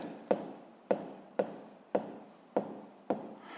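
A formula is written by hand in six quick, evenly spaced scratchy strokes close up, with no voices.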